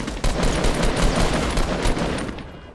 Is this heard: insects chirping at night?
no